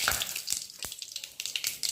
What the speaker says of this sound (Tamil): கடுகு போட்டுக்கலாம், கொஞ்சமாக சீரகம்